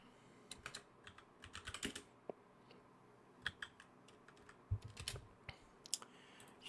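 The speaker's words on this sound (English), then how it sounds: "just type alch like this" A search is typed on a computer keyboard, with quick, light key taps in irregular clusters and brief pauses, close and fairly quiet.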